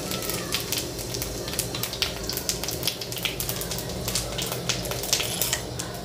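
Cumin seeds sizzling in hot oil as chow mein cooking begins: a steady, close crackling hiss with scattered sharp pops and spatters, and no voices.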